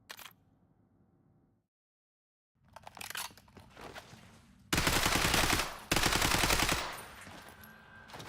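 Gun bursts in the video game Black Ops 7 Zombies, a short crack, a gap of quiet, then loud sustained automatic fire in two long runs that fades out.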